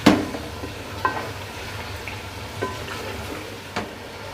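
Beef stir-frying with masala in a pot on high flame for pulao, with a steady low sizzle and occasional scraping stirs and clanks of the spoon, close and moderate, without speech.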